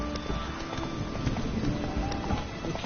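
Galloping horse hooves in The Witcher 3 video game, a steady rapid clip-clop running continuously under a low ambient game soundscape.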